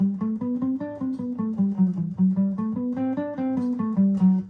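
A picking exercise runs across the whole guitar fretboard: even, evenly spaced single notes plucked one after another in a steady rhythm, played alone and up close.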